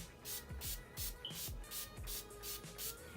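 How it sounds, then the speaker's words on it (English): Urban Decay All Nighter setting spray mists onto a face in rapid bursts, about eight short hissing pumps in a steady rhythm, close to the microphone. "so I'll be going in with the Urban Decay All Nighter Pollution Protection Setting Spray"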